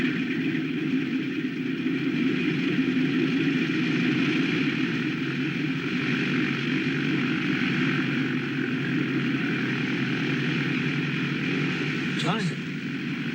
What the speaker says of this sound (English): when I'm sitting in this B-25 plane